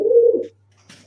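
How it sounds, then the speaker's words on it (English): A pigeon cooing close by, one loud low throaty coo lasting about half a second, then a short pause before a brief rustle and the start of another call. "that bird's noisy"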